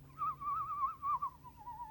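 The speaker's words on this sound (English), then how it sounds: "That was a good whistle." A person whistles a single wavering, slightly trilling tone that slowly drifts downward in pitch, close and fairly clear, lasting about two seconds.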